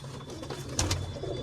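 Pigeons perched outdoors coo in low, soft, rolling calls, a couple of close coos standing out over faint background noise.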